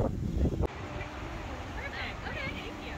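Gusty wind before a storm rumbles and buffets the microphone, with a louder burst at the start before settling into a steady low roar, faint chirps above; St. Augustine, Florida.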